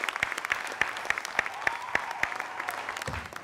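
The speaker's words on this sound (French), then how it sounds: "On va applaudir Tamsir très fort, s'il vous plaît." Studio audience applause on a French television show, a steady wash of clapping punctuated by regular, evenly spaced sharp claps, moderately loud throughout with no voices.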